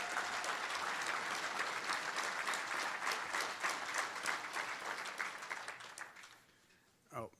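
A graduation audience claps steadily for several seconds, a broad dense applause that tapers off toward the end, followed by a brief sound at the close.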